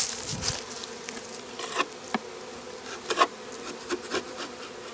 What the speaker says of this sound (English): most of the bees in there now are forager bees